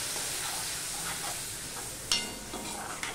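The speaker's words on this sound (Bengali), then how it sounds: "মশলাটা কষানোর জন্য আমি একটুখানি জল দিয়ে দিলাম" Masala sizzling in a pan just after a splash of water goes in, a continuous hissing fry with soft stirring scrapes and one sharp crackling burst partway through, fairly close and without any talking.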